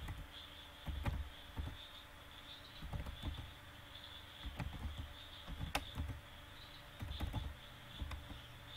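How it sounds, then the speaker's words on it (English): Keys tapped on a computer keyboard while values are entered into a chart's series column in MS Word: scattered, uneven clicks in short bursts over a steady low hum, close and fairly quiet. "And there in the series column I have to type demand value."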